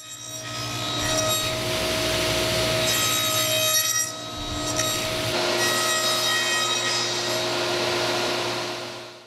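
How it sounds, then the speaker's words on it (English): Saw cutting tongues on the ends of wooden cabinet door rails for glass cabinet doors: a steady, loud, continuous cutting whine with a brief drop near the middle before the cut resumes, with no talk. "First you cut one side, then you flip it over and you cut the other."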